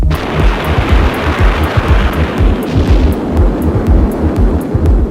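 Archival film soundtrack of a nuclear bomb detonation and its shock wave: a loud, continuous deep rumbling roar with turbulent low-end churning, sustained throughout with no talk.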